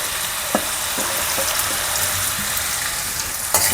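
Chopped ridge gourd with turmeric sizzling in a hot pan, a steady bright crackle with a few soft knocks of a stirring spoon.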